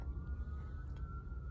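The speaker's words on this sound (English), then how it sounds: "Sirens are going off as I say that." An emergency vehicle siren holds one long steady wail somewhere in the distance, continuous and moderately faint over a low rumble of background noise, with no talking.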